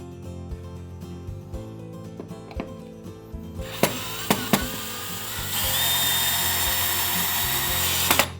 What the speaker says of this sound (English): We'll drill our hole.